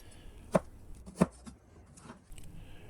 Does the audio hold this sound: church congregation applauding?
no